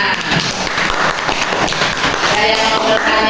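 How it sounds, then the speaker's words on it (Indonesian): Applause from a classroom audience after a group presentation, a loud, steady patter of many hands clapping together, close and continuous throughout. "Tepuk tangan."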